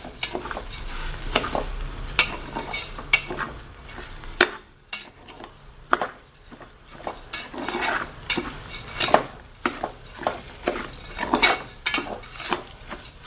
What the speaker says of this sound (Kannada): ಫಸ್ಟ್ ಅಕ್ಕಿನೂ ಕೂಡ ಆ ಎಣ್ಣೆ ತುಪ್ಪದಲ್ಲಿ ಒಂದು ಸಲ ಫ್ರೈ ಮಾಡ್ಕೊಳ್ತೀನಿ